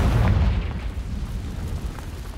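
A Confringo spell explodes in Hogwarts Legacy, a single loud rumbling blast that fades into a lingering low-frequency roar over a couple of seconds, with no voices.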